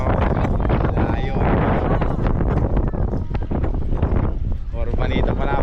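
Strong wind gusts roar and buffet the microphone continuously while a person talks underneath.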